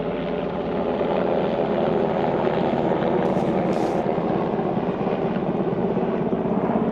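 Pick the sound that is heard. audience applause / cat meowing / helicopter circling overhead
helicopter circling overhead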